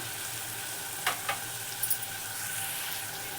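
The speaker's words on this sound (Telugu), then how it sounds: "ఇదిగోండి అల్లం వెల్లుల్లి పేస్ట్ 1 స్పూన్ వేస్తున్నాను." Ginger garlic paste dropped into a spicy Andhra-style chicken curry, a steady soft sizzle with a few brief crackling bursts as it hits the hot pan, close and without talk.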